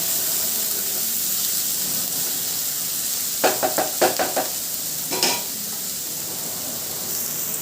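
Chopped onions sizzle steadily in a hot pan for mushroom masala curry, with a few clusters of clattering scrapes as a spoon stirs them partway through.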